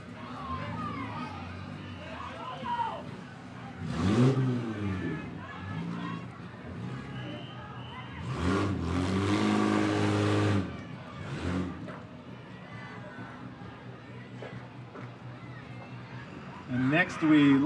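A car carrying high school seniors drives past during a homecoming parade, its engine swelling in a few loud surges amid outdoor crowd noise and an announcer's voice.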